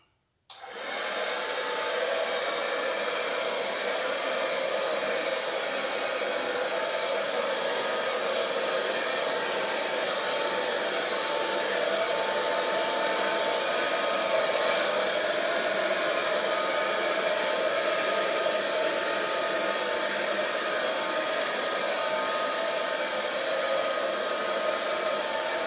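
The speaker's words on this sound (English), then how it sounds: "with the low setting on my hairdryer, I'm just going to gently blow the colours over." A hairdryer on its low setting blows steadily across wet acrylic paint on a large canvas, a continuous loud whirring airflow that starts abruptly and runs without pause, no voices.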